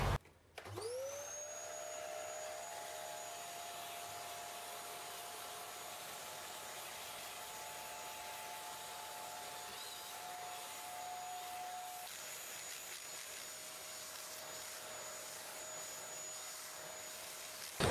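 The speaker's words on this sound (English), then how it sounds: "So I just gave it a bit of a hoover." A vacuum cleaner draws dust and fluff out of an Amstrad CPC 6128 keyboard shell, its motor whine starting up and then holding a steady, loud, close drone with high tonal pitches for the whole stretch before cutting off at the end.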